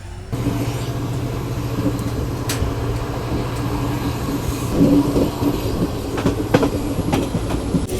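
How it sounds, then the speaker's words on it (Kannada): A passenger train pulls out of Veerapura railway station on the Ballari to Mantralayam route, heard from on board as a loud steady rumble and low hum with occasional clicks and clanks of the wheels. "ವೀರಾಪುರ ರೈಲ್ವೆ ಸ್ಟೇಷನಿಂದ ನಾವೀಗ ಡಿಪಾರ್ಚರ್ ಆಗ್ತಾ ಇದ್ದೀವಿ, ಇಲ್ಲಿಂದ ಹೊರಡ್ತಾ ಇದ್ದೀವಿ"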